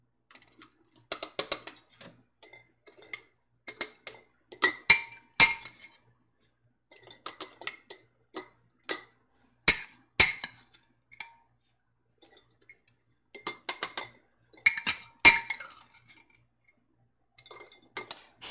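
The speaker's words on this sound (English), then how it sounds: "I'm just going to go ahead and add a little bit to each jar until I've equally distributed that whole onion." Chopped onion portioned into glass canning jars for raw-pack beef stew, producing scattered bursts of sharp clicks and light glassy clinks separated by silent gaps, close and crisp with nobody talking.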